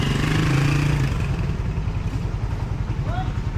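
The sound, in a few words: motorcycle engine idling while warming up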